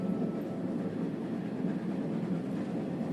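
A train car rolls along in Final Fantasy VII Rebirth, a steady, dense low rumble with faint rhythmic clatter, continuous and fairly loud with no talk.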